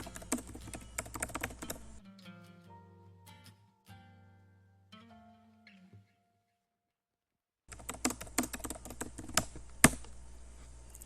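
Rapid keystrokes from someone typing a long passage on a computer keyboard, in dense clattering bursts at the start and again near the end, separated by a quieter stretch of soft tonal sounds. No one speaks.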